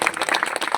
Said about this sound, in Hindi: एक बार जोरदार तालियां उनके स्वागत के लिए।